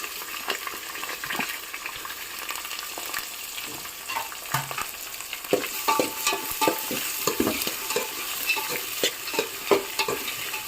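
Onions with curry leaves and green chillies frying in a pan for poha, a continuous crackling sizzle with scattered pops and occasional scraping stirs, close and moderately loud, no voices.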